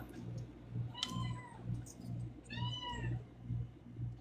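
Two cats meow in quick succession, fairly close, over a soft rhythmic clicking in the background.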